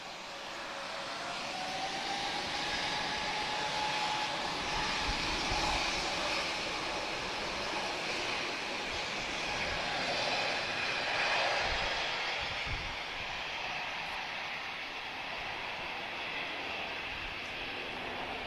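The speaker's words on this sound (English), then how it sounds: "I think we're going to get a global 6500 in a moment." A Bombardier Global 6500 business jet passes overhead, a broad steady roar that swells slowly and holds for many seconds at a moderate distance with no voices.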